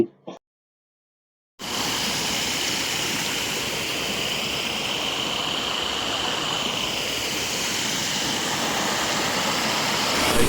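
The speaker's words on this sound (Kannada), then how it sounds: "ನೀರು ಹರಿಯುತ್ತಿರುವುದನ್ನ ದೃಶ್ಯವನ್ನ ಕಾಣಬಹುದು" A flooded river tributary rushing full after heavy rain, a loud, steady broadband roar of flowing water after a brief opening silence, with no speech.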